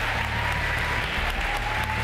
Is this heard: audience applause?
yes